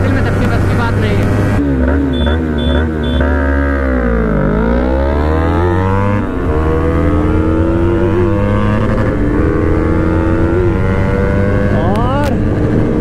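A Yamaha R3 and a KTM RC390 BS6 race each other in a drag race, their engines loud and close, rising in pitch through the gears with shifts and rev sweeps, a continuous roar without any audible talk.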